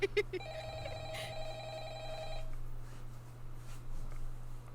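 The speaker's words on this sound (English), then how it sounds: "first let's listen to this phone call" A telephone rings with a steady, repeating electronic bell tone for a couple of seconds, then stops, leaving a faint hum and quiet room noise.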